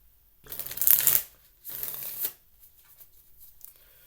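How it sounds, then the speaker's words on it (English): Tarot cards shuffled by hand in two distinct riffling bursts, each about a second long, close and crisp, followed by quiet handling. "Let's shuffle these cards."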